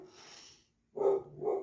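A dog barks twice close by, a breathy sound followed by a pause, then two sharp barks in quick succession.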